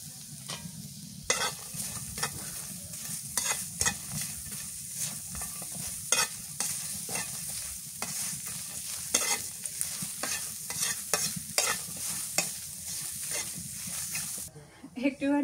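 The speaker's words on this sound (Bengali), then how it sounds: "পেঁয়াজ কুচি দিয়ে দিই।" Chopped onion frying and being stirred in mustard oil in a pan, a steady close sizzle with repeated scraping stirs throughout, for a shrimp bhuna; no talking.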